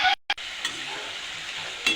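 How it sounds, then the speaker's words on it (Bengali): Nimki dropped into hot oil, with a brief clatter and a short gap before a dense, continuous sizzle of deep frying settles in, close and fairly loud, without talking. "তেলটা গরম হয়ে গেছে। আমি এই নিমকিগুলো এবার দিয়ে দেব।"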